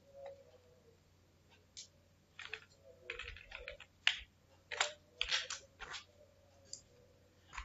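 Clicky keys on a computer keyboard being typed in irregular bursts, close and fairly quiet over a faint steady hum, with short pauses between runs of keystrokes.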